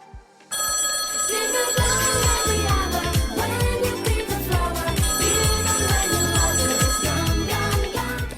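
Telephone ringing during a call placed on a French broadcast about Eurovision 2024, the ring set against loud, rhythmic music that fills the clip after a brief quiet start.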